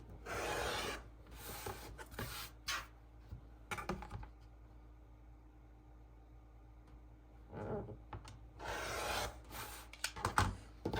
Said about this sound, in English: let me now just cut right on the draw line